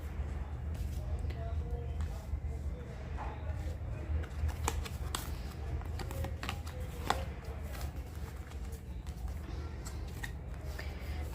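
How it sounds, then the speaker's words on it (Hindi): Playing cards being shuffled at a tarot-style reading, soft papery riffling and flicks close by and fairly faint, under a low steady background. "लास्ट शफल है"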